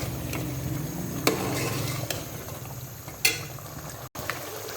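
Beef karahi meat sizzles and roasts with spices in a pan, giving a steady close bubbling, frying hiss with a few sharp clicks of stirring and no talk.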